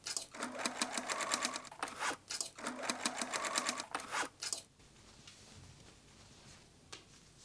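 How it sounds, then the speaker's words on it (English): A sewing machine stitches pockets and vertical compartment lines on a backpack made from old umbrella fabric, running in two rapid, rhythmic bursts before going quiet, with a faint knock afterward. "Sew the gathered piece to the main block and stitch vertical lines to make compartments."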